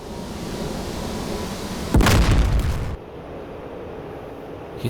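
A heavy bomb explosion hits a ground target at a nuclear plant in DCS F-15E Strike Eagle, bursting loud and sudden with a deep rumbling roar that lasts about a second before cutting to a quieter hiss.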